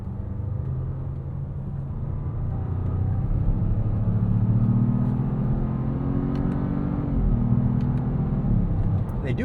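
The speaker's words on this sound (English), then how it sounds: "you can take manual control of your 8-speed with the paddle shifters." A 2026 Jeep Grand Cherokee with the Hurricane turbo engine and 8-speed automatic drones steadily from the cabin, the engine note rising and dropping as it shifts, with a voice talking over it.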